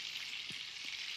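Seafood frying in oil in a pan under an anti-splatter lid gives a soft, steady hiss of sizzling with a couple of faint pops and no talk.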